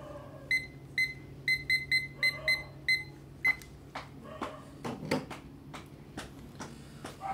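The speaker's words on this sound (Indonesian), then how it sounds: "Ini bunyi timer baru buka mata ya." A timer beeps in quick, evenly spaced bursts for a few seconds, then stops and gives way to scattered knocks and clatter in a quiet room.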